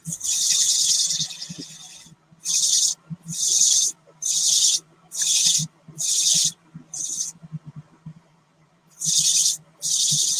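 Dremel rotary tool texturing a piece, a high whining grind in repeated bursts of about a second each, separated by short pauses, close and fairly loud over a faint low hum.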